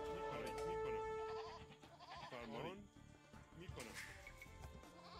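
Sheep in a video game bleat in several wavering cries close up, mixed with game sounds while players talk excitedly over them.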